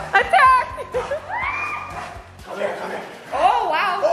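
A puppy barks and yips in short excited bursts during playful roughhousing with a young boy, up close and loud, with people talking and laughing over it.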